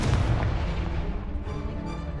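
Confringo blasting spell explosion in the video game Hogwarts Legacy: a heavy, booming blast that hits at once, then a low rumble that gradually fades.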